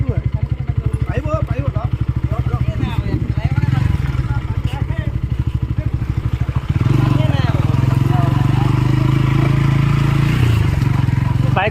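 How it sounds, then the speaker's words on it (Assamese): Motorcycles run past non-stop near the Jiyadhal river mouth in Dhemaji, with a loud, close, throbbing engine drone that continues throughout and deepens and thickens about halfway through. "হয়, নন ষ্টপ বাইক গৈ আছে"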